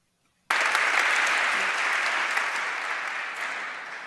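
Crowd at a Richard Dawkins talk: after a short silence, sudden loud, dense applause with cheering starts and continues steadily, slowly fading over a few seconds.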